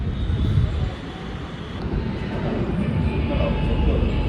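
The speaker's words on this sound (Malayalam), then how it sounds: "ഏതോ ഒരു ഫ്ലൈറ്റ് അങ്ങോട്ട് പോകുന്നുണ്ട് കേട്ടോ." An airplane passing overhead near a railway siding at Coimbatore North, a steady distant engine rumble and roar that holds throughout over outdoor background, with someone talking briefly.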